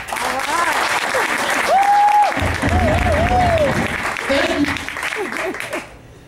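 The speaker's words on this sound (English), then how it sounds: "If you like nice people, clap your hands." An audience at a poetry event claps hands together in a dense, sustained burst, with a loud voice calling out over it and music-like tones, tapering off near the end.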